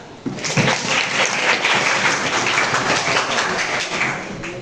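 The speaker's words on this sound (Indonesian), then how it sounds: "tepuk tangan." A group claps in a religious lesson about the Prophet Muhammad, loud and close, starting sharply and continuing as a dense, even patter of hands throughout.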